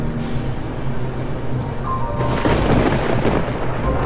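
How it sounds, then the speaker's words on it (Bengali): A thunderclap in a rainy storm, a deep continuous rumble that swells into a louder broad crash partway through, heard alone without talk. "রাস্তায় দাঁড়িয়ে আছি, হঠাৎ জোরে একটা বাজ পড়ল।"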